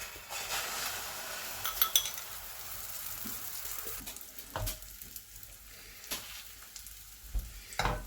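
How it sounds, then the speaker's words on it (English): Cheesy pepper omelette egg mixture frying in a greased pan, a steady sizzle with a few clinks of a utensil against the pan, close and fairly quiet. "I'm going to put half of the mixture in."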